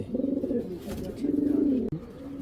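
Napta pigeons from Narayanganj, a tournament-flying breed, coo in two long, throaty rolling phrases nearby, with a brief knock between them.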